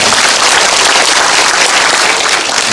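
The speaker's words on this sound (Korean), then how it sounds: "크게 박수로 환영해 주시기 바랍니다." Sustained applause from an audience at a civic gathering welcoming a sister-city council president, dense even clapping filling the space at steady loudness throughout.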